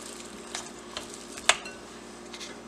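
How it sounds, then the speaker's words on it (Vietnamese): Pork paste for Vietnamese chả lụa being stirred and mixed in a bowl, with soft scraping and a few sharp clinks of a utensil against the bowl, over a low steady background hum. "Rồi bây giờ trộn đều nó lên."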